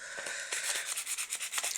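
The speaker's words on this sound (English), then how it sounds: "this is a sanding block" Rhythmic scratchy rubbing of a sanding block, a quick series of back-and-forth strokes, close up with no talking.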